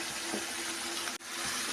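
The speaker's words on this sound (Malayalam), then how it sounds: "ഇനി നമ്മൾ വറുത്ത് കോരി എണ്ണ ഇച്ചിരി ഇരിപ്പുണ്ട് അത് ഇച്ചിരി ലേശം ഒഴിക്കണം" Leftover frying oil from sardine frying is poured into a pan of gravy for Kerala-style pickle, giving a soft, steady liquid trickle that runs close and quiet for under two seconds, with a brief break near the end.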